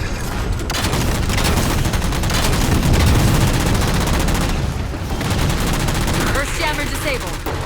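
Dense Halo 4 gunfire blasts away at jammers, sustained automatic bursts and booming explosions nearly filling the clip, easing briefly near the end before more shots crackle.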